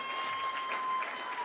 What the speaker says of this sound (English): Can we give it another round of applause?